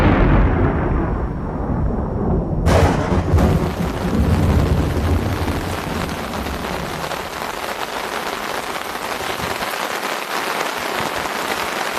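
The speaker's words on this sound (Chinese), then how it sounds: "持续1个月的大暴雨引发了水灾" Heavy rain pours down in a dense, steady roar, loud and close throughout, with a sudden swell in intensity early on.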